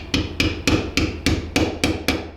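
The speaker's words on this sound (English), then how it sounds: "I'm going to go ahead, take a non-marring hammer," A non-marring hammer taps a pin out of a Ruger MKIII pistol in eight close, evenly spaced sharp knocks, one roughly every third of a second, with no talking.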